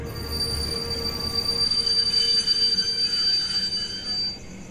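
Train braking hard inside a tunnel, a piercing sustained wheel squeal over heavy rumbling rail noise, loud and close, easing off near the end.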